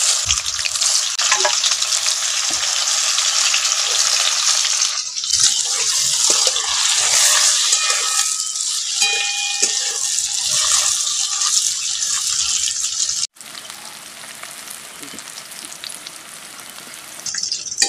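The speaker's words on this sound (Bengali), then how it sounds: "লবণ হলুদ মাখানো কাঁকরোলগুলোকে এখন তেলের মধ্যে দিয়ে ভালো করে ভেজে নেব।" Salted, turmeric-coated spiny gourd (kakrol) fries in hot mustard oil in a kadai, a loud, steady crackling sizzle with stirring clatter, briefly cutting out near the end before resuming.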